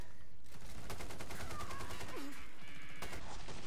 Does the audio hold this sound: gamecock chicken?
no